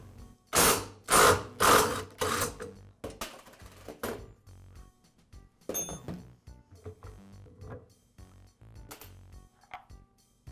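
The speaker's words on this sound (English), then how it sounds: "I'll secure the nut with a wrench and use my impact driver to remove the bolt." An impact driver backs out the shoulder bolt on a Yard Machines lawn mower wheel while a wrench holds the nut inside the deck: a few loud rattling bursts in the first seconds, then quieter clicks and handling noises.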